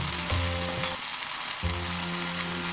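Spices such as curry powder, turmeric, red chili and black pepper fry in a curry pan for paneer tikka masala, giving a steady close sizzle with a low humming drone that drops out briefly midway.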